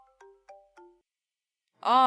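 A phone's ringtone chimes three short, spaced electronic notes, clear and close in an otherwise quiet room, before a voice begins speaking.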